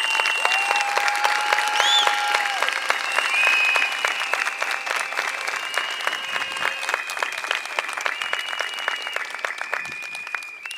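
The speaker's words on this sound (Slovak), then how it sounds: "Prosíme všetkých o jeden veľký potlesk pre našich hostí" Audience applauding guests at a cultural event in Padina, Kovačica, a steady dense clapping that carries on for about eleven seconds with a few whistles and no talk over it.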